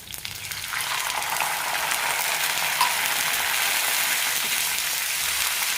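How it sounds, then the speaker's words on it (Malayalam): Water poured into a pan of hot curry gravy sets off a loud, steady hiss and sizzle that swells in the first half-second and holds evenly to the end, with no voices. "കാൽക്കപ്പ് കപ്പ് വെള്ളം ഒഴിക്കുന്നുണ്ട്"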